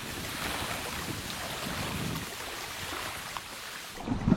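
Large waves churn around a small fishing boat on open water, with continuous rushing surf and heavy wind buffeting the microphone, and a few knocks near the end.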